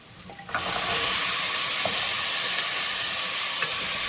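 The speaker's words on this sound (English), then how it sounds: "we'll add in some of our veggies. Starting with the carrots" Carrots hit a hot pan for a cozy vegetable stir fry, bursting into a loud, steady sizzle that starts abruptly after a brief quiet moment and holds as a continuous hiss, with a few faint clinks beneath.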